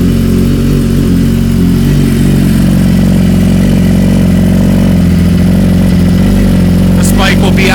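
An Aprilia Tuono motorcycle engine runs loud and close in a garage, a thick steady rumble that holds throughout with a slight rev toward the end, while a person talks over it.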